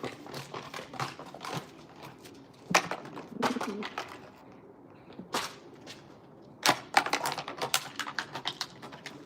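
Pigeons shuffle and flap in a quiet enclosed space, making scattered bursts of sharp wing claps and clattering taps.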